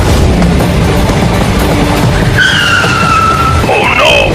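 A cartoon train brakes toward a stop, screeching metal squeals rising and sliding in pitch over rumbling wheel noise, loud and close.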